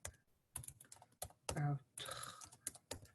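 Computer keyboard typing in irregular bursts of clustered keystrokes, fairly close and moderately loud, with a brief spoken voice mixed in partway through.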